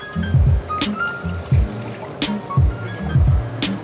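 Two cups of water are poured into a pot for making ramen with spicy rice cakes, a steady trickle and splash with soft background music underneath.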